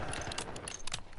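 Short metallic clicks and clacks as a weapon magazine is swapped in Warzone, a quick run of mechanical rattles and snaps heard close and fairly quiet.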